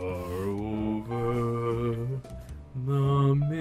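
A sung vocal line processed with a chorus effect, the voice doubled and slightly detuned for a wavering, out-of-pitch shimmer, sustained notes with a brief break midway, loud and close.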